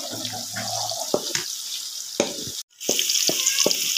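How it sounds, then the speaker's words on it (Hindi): Onions frying in hot ghee in a pan while making chicken with chana dal, a steady close sizzle with a few clicks and stirring knocks and a brief drop out near the middle. "ये घी गर्म हो गया, मैंने प्याज डाला इसमें"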